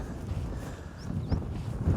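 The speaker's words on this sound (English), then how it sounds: "It's really windy tonight." A strong, warm night wind blows outdoors, buffeting the microphone with low, uneven gusts that swell and ease, with no talking.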